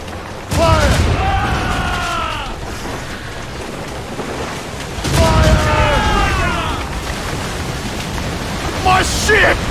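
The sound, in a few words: ship cannon fire from Assassin's Creed Rogue video game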